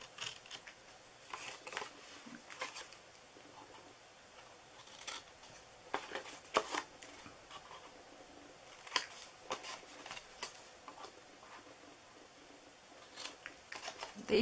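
Scissors snip triangles off a paper treat box: quiet, irregular clusters of crisp cuts and paper rustles, close by, with short pauses between.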